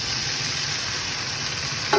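Bengali-style mutton kosha stirred in a pan, a continuous close sizzle and frying hiss with stirring, alone, ending in a short knock.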